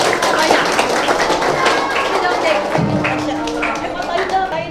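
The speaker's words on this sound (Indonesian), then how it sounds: "Bagus, tepuk tangan." An audience at a Maulid Nabi religious gathering at a madrasah claps in loud, uneven applause, with crowd voices and chatter underneath.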